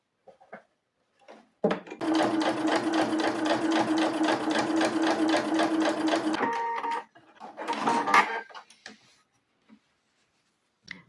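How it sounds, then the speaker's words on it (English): A sewing machine stitches fabric for a patchwork project, running steadily for about five seconds with a rapid mechanical stitching rhythm, followed by a few shorter bursts and handling clatter. "now I'm going to take this over to the sewing machine and start the sewing portion"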